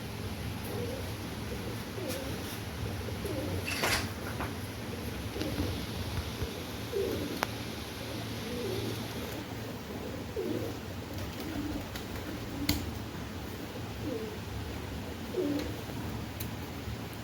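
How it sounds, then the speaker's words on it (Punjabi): Soft, repeated pigeon coos murmur low over a steady background hum, with occasional faint chirps and clicks at a middle distance. "ਆ ਕਬੂਤਰ ਕਹਿ ਰਿਹਾ ਬਈ ਸੁਣੋ"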